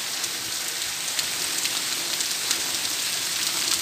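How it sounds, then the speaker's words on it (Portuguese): Heavy rain falling in the dry backcountry of Piauí, Brazil, a dense steady hiss of drops striking surfaces with occasional sharper patters, continuous and close with no voices. "chuva, chuva na Terra do Galo"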